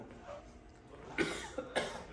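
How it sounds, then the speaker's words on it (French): A couple of short, quiet coughs a moment apart, faint and fairly close against a low background. "Il faisait que tousser sur moi"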